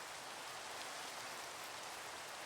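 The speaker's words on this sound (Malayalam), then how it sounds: "മഴയാണ്, ഇവിടെ എന്തോ ചെയ്യും." Rain falling in the Minecraft video game, a soft, even hiss of steady rainfall with no other sounds.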